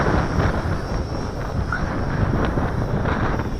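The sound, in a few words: strong wind on the microphone while flying a JJRC H12C drone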